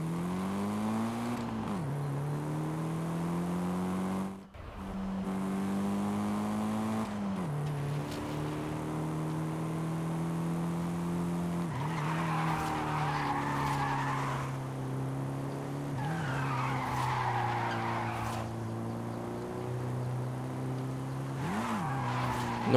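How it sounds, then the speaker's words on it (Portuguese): A Mitsubishi Eclipse drifting in Forza Horizon 5, its engine droning steadily while tires squeal in long sustained screeches that repeatedly swell and fade, loud and continuous, with one brief dropout. "Tem como cantar pneu nesse jogo, não?"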